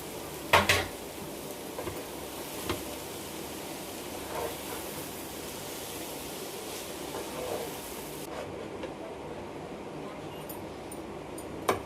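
Egg and chopped chapati for kothu chapati stirred in a hot pan, with occasional sharp metal clanks of the utensil against the pan over a low, continuous frying hiss that drops away near the end.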